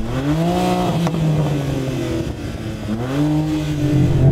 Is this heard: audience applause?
no